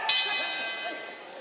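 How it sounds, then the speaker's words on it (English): A boxing ring bell clangs once to end the first round at a women's bout, a bright metallic ring that lingers and fades over arena noise. "The bell for the end of round number 1."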